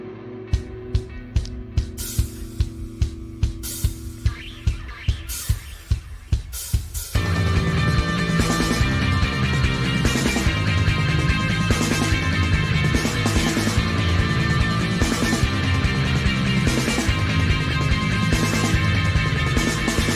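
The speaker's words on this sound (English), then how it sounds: "Got this hellacious song that starts the album with that dissonance" The dissonant opening of a song: sparse, repeated struck notes clash over a low drone for several seconds, then the full band crashes in loud and dense, driving on with steady rhythmic hits.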